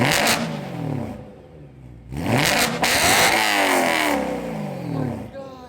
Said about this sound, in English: All right, let's do some revs.